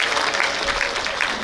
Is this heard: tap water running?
no